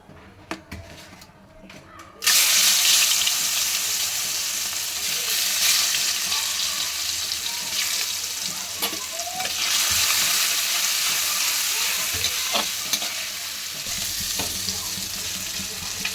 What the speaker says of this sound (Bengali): চিংড়ি মাছ ভাজা হয়ে যাচ্ছে